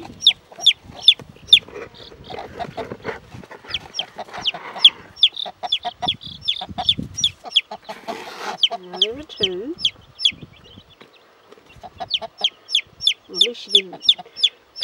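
Broody hen clucking softly among three-day-old chicks, with rapid high peeping from the chicks throughout and low, repeated clucks from the hen, close and clear.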